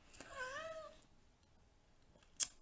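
A cat lets out a single drawn-out meow, fairly close and moderate in level, followed by a short sharp sound near the end.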